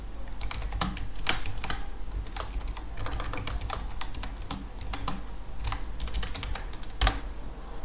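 Typing on a computer keyboard, with quick, irregular key clicks at close range, steady and fairly quiet, with no one talking.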